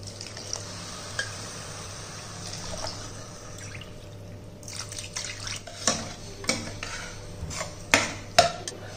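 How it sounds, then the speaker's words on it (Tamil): Three cups of water poured onto millet rice in a home kitchen, a soft continuous splashing with light clinks and drips near the end, close and moderately quiet. "இப்போ அம்மா இதில் 3 கப்பு தண்ணி ஊற்றிக்கிறோம்"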